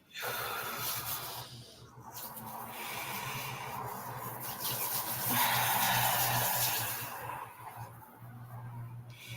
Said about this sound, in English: So close your eyes, take 4 deep breaths.